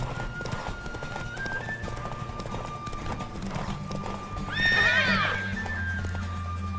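A horse in the video game The Witcher 3: Wild Hunt clip-clops steadily along, then gives one loud, shrill neigh about two-thirds of the way through, set against a low ambient drone.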